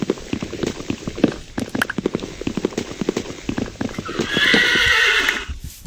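Minecraft horses whinny and neigh while hooves clip-clop in a quick irregular series, followed by a brief hissing swell near the end.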